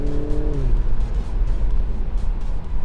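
A BMW Z4 sports car accelerates hard on the road, with a rising engine note early on that drops away into loud, steady road and wind roar.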